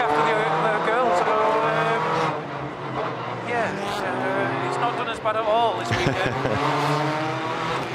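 Touring race cars of the BTCC at Brands Hatch, engines droning and rising with harmonic whine and a touch of tyre noise, running steadily beneath close conversation between two people.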